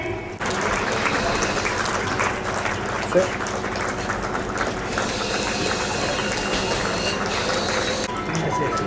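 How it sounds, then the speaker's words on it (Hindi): Applause from an audience at a school annual function, a dense steady wash of clapping with a voice or music underneath, continuing loudly throughout. "आप सभी तालियां बजाते रहे।"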